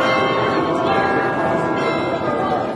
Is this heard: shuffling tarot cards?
no